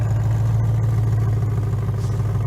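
A BMW E92 M3 idles nearby with a steady, deep engine and exhaust rumble that holds an even tone throughout, with no voices over it.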